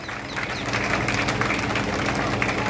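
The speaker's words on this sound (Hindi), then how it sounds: "तालियां रुकनी नहीं चाहिए" Applause from a crowd at a convention hall in Rajasthan, a steady, dense clapping wash that continues throughout at moderate loudness.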